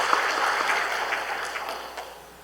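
A church congregation claps for a newly arrived choir conductor during a Sunday worship service. The dense applause fills the room and slowly fades away.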